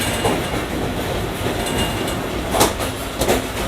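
The Karakoram Express of Pakistan Railways rolls along with a steady loud rumble and rhythmic clickety-clack of wheels on rails, heard from inside a coach, with a few sharper rattles near the end.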